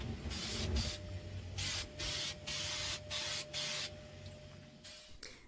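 Fusion spray paint hissing from an aerosol can onto plastic trim during a 1974 truck pop-up camper renovation, in about six short bursts of roughly half a second to a second each, close to the mic, with no talking.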